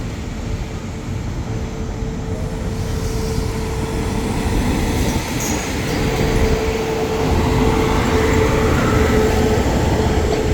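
Thai special express train 43 rolling through Ban Pong station, a loud continuous rumble of wheels and carriages close by, building slightly toward the end with a faint squeal.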